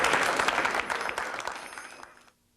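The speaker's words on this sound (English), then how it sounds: "Let's give them a round of applause." A small audience at a local folk music club gives a brief round of applause, a dense burst of claps that fades out and stops after about two seconds.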